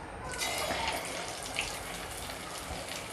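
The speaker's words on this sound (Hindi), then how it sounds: "तो चलिए अब हम डीप फ्राई कर लेते हैं अपने कोफ्तों को" Watermelon rind kofta dropped one by one into hot mustard oil in a kadhai and deep-frying over a low flame, giving a steady, even crackling sizzle with faint light pops throughout, no talking.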